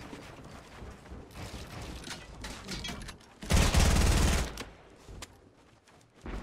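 Bursts of gunfire from the Fortnite Battle Royale video game: scattered shots and rattles, then a loud, dense volley of rapid fire lasting about a second before dropping back to quieter game sounds.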